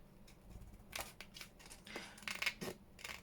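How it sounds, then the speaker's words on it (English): Scissors cut the top off a paper folio lapbook, heard as a string of faint, close, separate snips at irregular spacing in a quiet room, with no voices. "I'm going to do it with the scissors"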